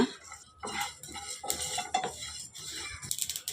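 Garlic and curry leaves stirred in a pan, close metallic clinks and scrapes of a spoon against the pan in irregular bursts, with a soft sizzle beneath and no voices.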